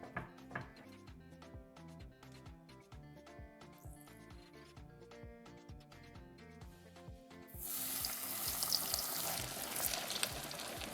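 Food frying in hot oil in a pot while rice is being cooked, with scattered crackling pops and light scraping, then a denser, steady sizzling hiss rising in the second half, close and fairly quiet.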